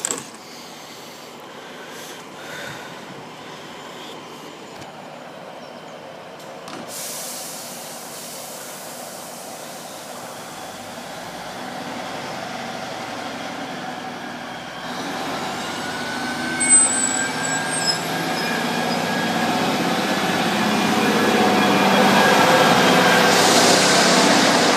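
Train to Peterborough passing Blankney level crossing in Lincolnshire, a steady rumble that builds gradually and grows louder toward the end, with a high metallic squeal partway through.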